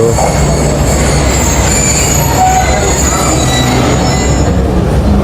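A Pakistan Railways train on the Lahore to Peshawar line at a platform on a rainy day, giving a loud, constant rumble and squeal of wheels and carriages that fills the whole stretch.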